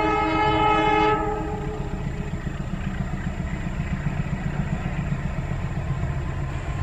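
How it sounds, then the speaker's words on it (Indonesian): A coal freight train hauled by a CC204 locomotive rolls past, a horn blast fading in the first second before a steady, rhythmic rumble of wheels clacking over rail joints. "Di sini ramai kereta, tapi keretanya rata-rata batu bara."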